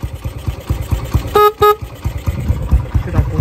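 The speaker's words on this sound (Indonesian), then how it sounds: "belnya." A Honda CB motorcycle horn gives two short honks over a faint idling engine, with clicks and handling noise around them.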